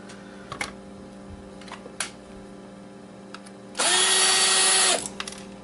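A power driver unscrews screws from scrap hard drives: a few light clicks and taps, then one loud whirring burst lasting about a second.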